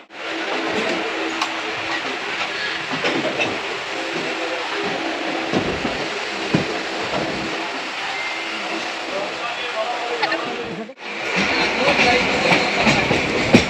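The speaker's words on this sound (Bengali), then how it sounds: "একটা ট্রেন শিয়ালদা থেকে রওনা দিল আর একটা ট্রেন শিয়ালদায় ঢুকছে দেখো" A suburban train rumbling and clattering past at Bidhannagar station near Sealdah, Kolkata, loud and continuous, with a brief dip near the end before the rolling noise resumes.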